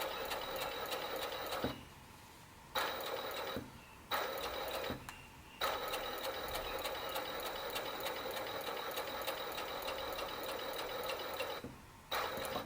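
Overlock serger machine stitching along a fabric edge, a rapid whirring mechanical hum that runs in bursts with several short pauses between runs, close and steady.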